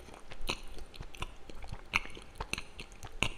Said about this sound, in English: I was going to be eating pizza out of a Ziploc bag.